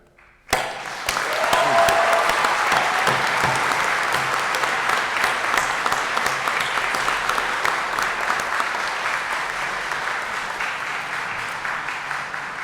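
Graduation ceremony audience applauding families, a sudden burst of dense, sustained clapping from a large crowd that holds steady and then slowly thins over many seconds.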